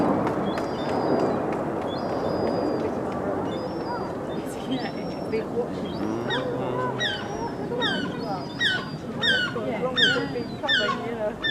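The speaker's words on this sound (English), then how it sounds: "Seagulls as well, I think." Seagulls call in a run of short yelping cries over steady outdoor rumble and wind, growing more frequent toward the end, at a seaside air show heard from a car park.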